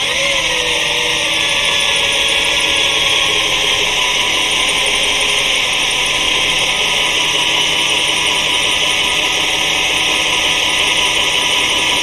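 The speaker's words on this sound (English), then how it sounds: "I just got to drill out the plexiglass some more" A loud, steady high-pitched whine of a power drill biting into plexiglass runs continuously and close up, with no pauses.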